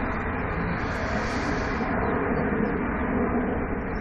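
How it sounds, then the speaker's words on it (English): Airbus A350 airliner at Manchester Airport, a steady broadband jet roar that holds level throughout, loud and continuous with a slight swell midway, outdoors with wind. "Airbus A350"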